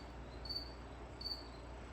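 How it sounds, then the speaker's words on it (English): A cricket chirps in two short bursts, moderately loud and close, over a steady background hum in an indoor setting. "That cricket is super annoying."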